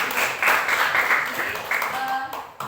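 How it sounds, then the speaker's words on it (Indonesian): Students in a classroom during a maths lesson clap together for a classmate, a short burst of scattered applause that fades as a teacher's voice takes over. "tepuk tangan dulu."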